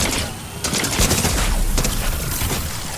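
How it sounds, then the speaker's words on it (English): Bursts of gunfire from a newly acquired gun in a video game, loud rapid shots in a dense, continuous barrage with no talking. "I want to try out this gun I just got."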